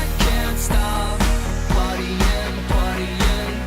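A loud, heavily produced electropop track, with a thumping kick drum on a steady beat, sustained synth and guitar tones filling the mix.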